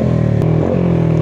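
A motorcycle engine idling close by, a steady low rumbling drone with a slight shift in pitch partway through and a brief click near the middle.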